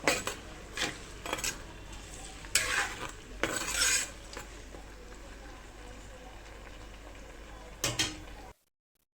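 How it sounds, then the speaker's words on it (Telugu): Onions and green chillies frying in oil for a chicken leg piece curry, a low steady sizzle with a few bursts of spoon-on-pan stirring, and a voice speaking over parts of it before it falls silent. "ఇప్పుడు ఈ ఆనియన్స్ అన్ని ట్రాన్స్పరెంట్ అయ్యే వరకు బాగా వేయించుకోవాలి"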